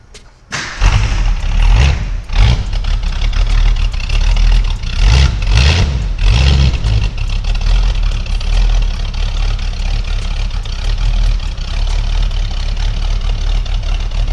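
A Ford Mustang GT convertible's V8 cranks with a brief thump and catches, then settles into a loud, steady, rumbling idle close to the listener that continues to the end, with no one speaking.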